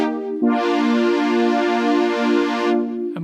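Preset tone on a virtual Casio CZ synthesizer: one long, loud sustained chord with a bright buzzy upper layer that swells in and drops away near the end, leaving a softer held tone, with no speech.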